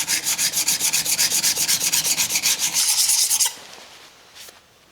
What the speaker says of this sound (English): I'm just going to then progress to 600 and then 1200 grit, and we'll call that good in terms of lapping the back of the iron